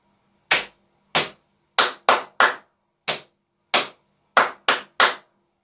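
Body percussion performed alone: sharp, crisp hits from knee slaps with both hands and hand claps, ten strikes in a steady repeating pattern separated by silence, close and clear.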